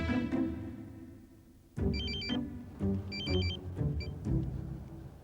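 A telephone rings in a drama scene, sounding in three short bursts of electronic trills with brief pauses between them, over a low, steady background.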